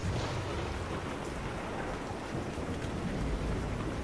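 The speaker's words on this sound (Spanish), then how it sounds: "La tormenta." Steady heavy rain in a thunderstorm on a Kentucky farm, a dense continuous wash with low rumbling underneath, loud and unbroken throughout with no voices.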